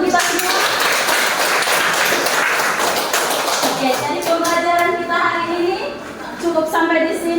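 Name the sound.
applause, class clapping hands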